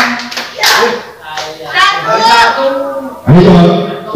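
Children in a school classroom clap their hands together in bursts, the claps mixed with an adult's voice and children's chatter, loud and close, with a strong burst near the end.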